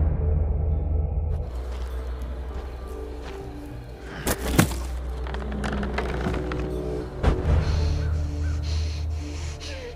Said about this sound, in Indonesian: Kemudian ia disamperkan oleh burung gagak.